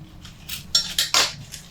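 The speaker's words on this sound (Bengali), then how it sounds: "একটু চামচ দিয়ে জলের মধ্যে সেট করে দেব" A spoon pressing banana flower pieces down into water in a cooking pot, giving a few quick metallic clinks and scrapes close by over about a second.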